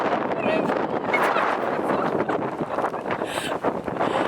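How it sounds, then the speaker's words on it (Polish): Gusty wind rushes and buffets loudly and continuously, with a faint voice or two barely audible beneath it. "Ale dzisiaj ogólnie wszędzie wieje, taka jest pogoda."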